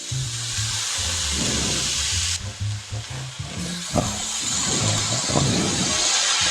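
Spring onion greens tossed into a pan of sautéed tomatoes for kanda patichi bhaji, steady loud sizzling and frying hiss with a brief dip, then stirring clatters and scrapes as the greens are mixed.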